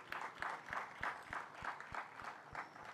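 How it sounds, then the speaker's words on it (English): An audience at a community center reopening ceremony claps for a city department leader, producing a fairly steady, moderately loud patter of hands with evenly spaced sharper strikes running through the whole stretch. "Let's give him a round of applause."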